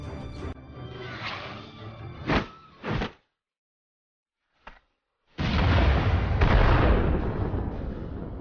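Explosion scene in an action film: a rumbling burst with whooshing debris, sharp blasts, then a sudden silence and a short thud before a loud, sustained roaring detonation that fills the end.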